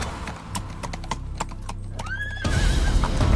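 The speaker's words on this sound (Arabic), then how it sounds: "صهيل" A horse neighs once in a clear rising and falling whinny, preceded by steady hoofbeat clip-clops and followed by a louder burst of broadband noise.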